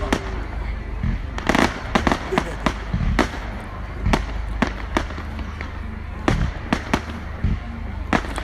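Fireworks display on a November night at Manor Fields, with sharp explosive bangs bursting irregularly every second or so, some loud and close, over a steady low rumble and faint crowd murmur.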